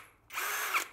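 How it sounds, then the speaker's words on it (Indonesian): Miyota D8216c cordless impact drill running in one short, loud, close whirring burst lasting under a second, with a rattling chuck clatter and no talking. "sehingga pengait ya untuk penguncian satu tangan itu yang akhirnya membentur ya, menimbulkan bunyi cetak gitu"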